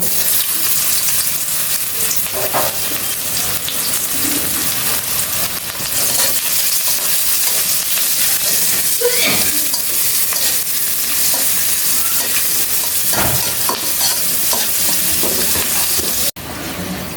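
Chopped onion sizzles loudly in hot oil with cumin seeds in a wok, a dense continuous crackle with occasional spatula scrapes, close up and steady.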